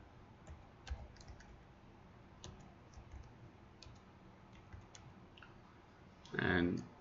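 Sharp computer mouse clicks tick out at scattered moments over a quiet hum, with a brief louder burst of voice near the end.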